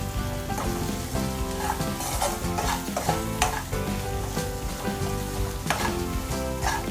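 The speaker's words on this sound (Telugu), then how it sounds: "ఒక్కసారి బాగా మిక్స్ చేసుకుందాం." Spices being stirred into a quail curry in a hot pan make a continuous sizzle and frying crackle, with repeated scraping stirs close up and no voices.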